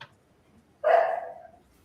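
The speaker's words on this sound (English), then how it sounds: "The dogs have to say hello." A dog named Blaze barks, a single loud, close bark that trails off quickly after a moment of near silence in a podcast room.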